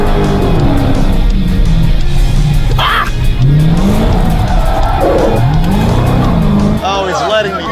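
A car drifts with sustained tire squeal and a revving engine during a shootout special, loud and continuous, while a commentator talks excitedly over it.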